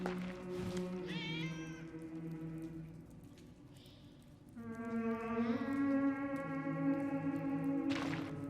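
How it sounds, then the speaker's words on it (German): A cat meows repeatedly in the video game 11-11 Memories Retold, several drawn-out, wavering cries heard fairly clearly over a soft ambient backdrop. "Wie zum Teufel kommt die Katze hier rein?"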